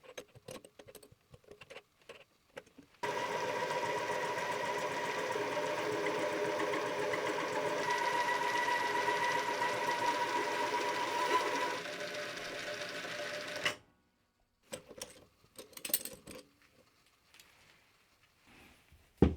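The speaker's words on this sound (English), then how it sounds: "Flipping the part over to machine the other bore." A metal lathe or mill cuts the second bore in a steel arm for a tapping stand, a steady whirring machining drone with a faint whine that runs for about ten seconds and then stops, leaving scattered handling clatter.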